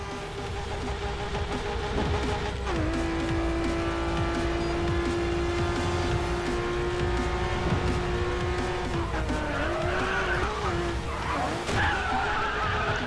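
Car skidding under heavy braking in the racing video game Racing Master, a sustained tire squeal with a steady pitched whine over loud engine roar, continuous for most of the stretch and wavering near the end.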